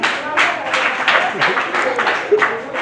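A church congregation claps for a mother during a French-language service, with scattered rhythmic clapping running throughout under a speaker's voice.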